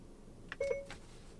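Apple CarPlay Siri activation beep triggered by the car's center button, a single short two-note electronic chime, faint and close, over low cabin hum.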